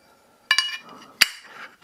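A metal slotted bar from a WINWING detent assembly set down onto a throttle mount base, giving two sharp metallic clinks about three quarters of a second apart, each with a short ringing tail, close and otherwise quiet.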